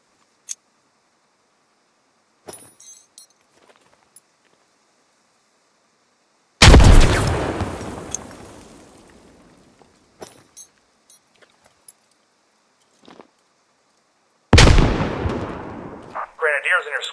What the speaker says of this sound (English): These fire 40mm grenades and are highly effective against infantry in the open and light vehicles